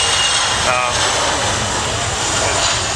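A KC-135 jet aircraft flies a landing attitude demonstration at the RIAT 2010 air show, its engines giving a loud, steady, close roar that holds unbroken throughout.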